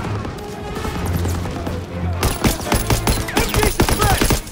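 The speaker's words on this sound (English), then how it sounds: "Covering fire!" Covering gunfire in Call of Duty WWII: a low rumble and shouting voices, then a loud burst of rapid machine-gun fire with booming shots that keeps going to the end.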